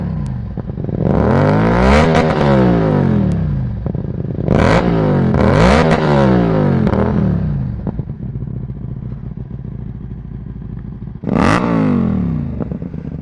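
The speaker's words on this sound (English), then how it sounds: "This is a custom made exhaust for this bike, and you can hear it." A Hyosung GT250R motorcycle with a custom exhaust revs close by, giving several deep, loud throttle blips that rise and fall over a lumpy idle between them.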